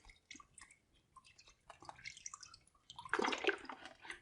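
Fractionated coconut oil is poured over lavender plant material, giving wet trickling, dripping and squishing sounds in short bursts, ending in a fuller, louder pour.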